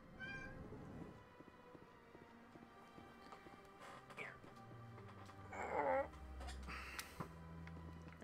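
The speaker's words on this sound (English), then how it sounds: "I hear you, Mr. Orange Kitty." A cat meows at the start and again a few seconds later, indoors beside video game audio from Mass Effect that holds music, clopping sounds and steps, with someone speaking.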